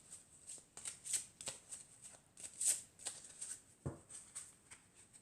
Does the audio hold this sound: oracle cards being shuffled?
yes